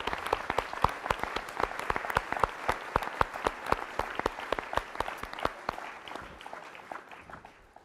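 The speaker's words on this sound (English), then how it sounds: "a round of applause for those that helped tonight" A dinner audience at the Classic Center in Athens claps for the evening's volunteers. Sharp, distinct claps come fast and fairly close, form a lively burst and thin out toward the end.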